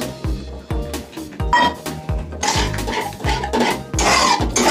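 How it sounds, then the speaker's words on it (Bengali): Whisked sour yogurt going into a pan of cooked-down spice masala for a Bengali chicken curry, heard as close clattering and scraping of a utensil against the pan with soft splatter, no talking. "এবার আমি এর মধ্যে ফেটানো টক দইটা দিয়ে দেবো।"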